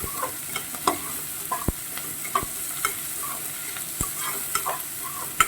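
Potato pieces fry in a pan for aloo biryani, a steady soft sizzle broken by sharp scrapes and clinks as a utensil stirs them in an irregular rhythm, with no talking.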